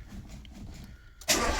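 Citroën BX petrol car with a leaking mechanical fuel pump cranking and catching, a sudden loud engine start after a quiet moment, then settling into a close, steady run.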